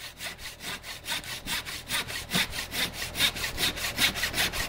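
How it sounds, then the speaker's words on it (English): Steady back-and-forth strokes of a joinery crosscut saw cutting wood for a lap joint, each rasping pass clear and close, in an even rhythm with no talk. "I'm using a crosscut saw, known as our joinery crosscut saw."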